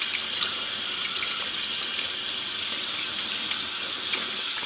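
Hot water runs steadily from a tap, a loud, constant splashing hiss close by that continues without a break, with no voices.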